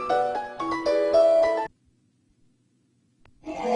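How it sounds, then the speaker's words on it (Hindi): A phone ringtone plays a bright melodic tune for over a second, stops into near silence, then starts ringing again. "ओहो, फोन बज रहा है।"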